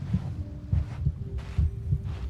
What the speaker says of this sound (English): my heartbeat is going too fast